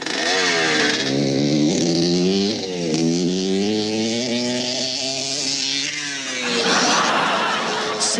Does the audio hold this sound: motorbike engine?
yes